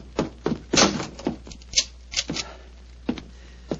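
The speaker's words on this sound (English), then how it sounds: "Follow me, lock the door behind you." A door is closed and locked nearby: a quick series of knocks, clacks and metallic clicks over a few seconds, with no voices.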